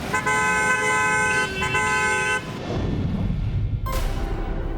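Traffic jam at the sealed Delhi-Noida border during lockdown, with a long steady car horn blaring over engine rumble, then fading into dense road noise and a brief shorter toot.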